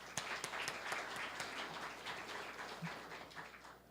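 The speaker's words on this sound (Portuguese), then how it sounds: "salva de palmas, por favor." An audience at a corporate symposium claps to welcome a speaker to the stage, a sustained, moderately loud round of applause with some sharp individual claps standing out near the start before it gradually thins.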